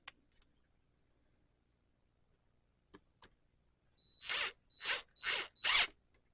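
Stainless steel screws are driven into a 3D-printed Voxel PLA part, a few faint clicks followed by four short bursts of whirring power-driver noise, close and separated by brief pauses.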